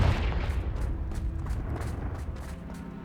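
Confringo fire spell blasts burst in Hogwarts Legacy, a string of rumbling, artillery-like booms and sharp cracks repeating across about three seconds at moderate loudness.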